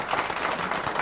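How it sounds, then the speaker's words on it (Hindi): Audience applause for Delhi transport minister Gopal Rai's arguments, a steady dense patter of clapping filling the whole short stretch at moderate loudness with no pauses. "तालियां बज रही हैं गोपाल राय दिल्ली के परिवहन मंत्री के तर्कों पर यहां पर।"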